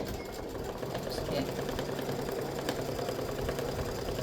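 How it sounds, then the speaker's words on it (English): An embroidery sewing machine stitches a grid with a steady, close mechanical whir and rapid needle rattle, running continuously without pauses. "after you stitch the grid, then it's going to stitch up at the top."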